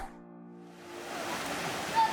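After a brief tonal hum, a steady broadband rush of falling water swells in and fills the clip, loud and continuous.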